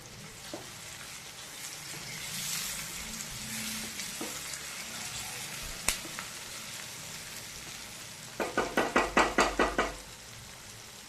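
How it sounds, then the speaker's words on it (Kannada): Onions and tomatoes frying in a tempering for puffed-rice mandakki, with a quiet, steady sizzle followed near the end by a quick run of sharp knocks and clatters from the pan. "ಈಗ ನೀರುಳ್ಳಿ ಎಲ್ಲ ಫ್ರೈ ಆಗ್ತಾ ಬಂತು"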